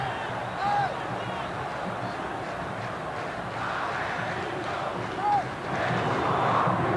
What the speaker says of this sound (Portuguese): Canta a torcida do Vasco